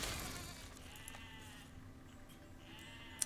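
Sheep in the physics building game Besiege give a few bleats amid quiet game ambience, faint and drawn out, with a sharp tick near the end.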